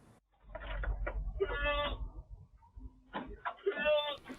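Goats in a village livestock pen bleat in two loud, close bursts with wavering cries, over low background rumble.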